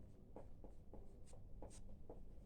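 Chalk or marker strokes scratch across a classroom board during a Class 10 maths lesson, a series of short, regular marks repeated about every half second against a steady room background, with no talk.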